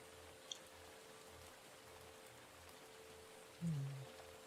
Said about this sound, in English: Perhaps it's the rain